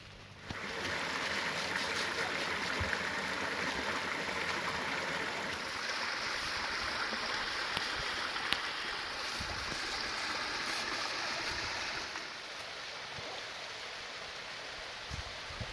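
Steady rushing water from Sidewinder Falls and Bear Creek in the Arkansas Ozarks, a constant broadband roar that continues evenly throughout with no voices.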